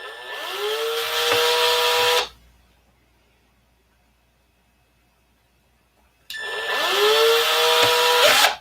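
Power drill boring holes in a canopy, two loud bursts of whining motor spinning up, each about two seconds, separated by a quiet pause.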